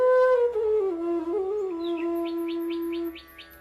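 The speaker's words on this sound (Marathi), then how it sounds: "पक्ष्यांचा चिवचिवाट कानावर येत आहे" Birds call in a teak forest: a long, wavering whistled note glides downward and holds, then a quick series of short, high, regularly spaced chirps follows, fairly faint and without talk.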